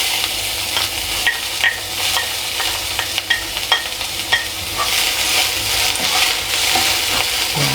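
Ginger and onion sauté in a hot pan as the base for a clam, kangkong and papaya tinola. A constant bright sizzle carries frequent close scrapes and taps of the spatula, with no one talking.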